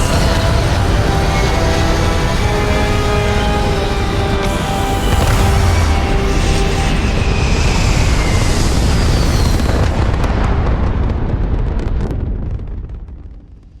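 Spacecraft engines fire up for launch in a video game, a loud continuous roaring rumble with wind-like hiss that holds steady for several seconds, then swells slightly before fading out near the end, with no voices.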